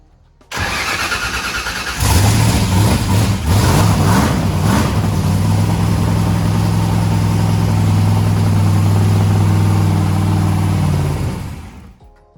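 A turbocharged engine on its very first start cranks on a hanging starter for about a second and a half, then catches into a loud, steady, rough-edged run close by before shutting off.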